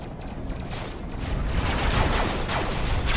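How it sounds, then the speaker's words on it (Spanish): Gunfire from the red team in Robocraft, building from a dense hiss into a steady roar of rapid shots that grows louder and stays continuous, with no voices over it. "Los rojos están disparando por ahí"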